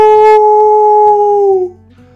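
A voice imitates a dingo howling, one long sustained, wavering howl held loud and close, sliding down in pitch before trailing off.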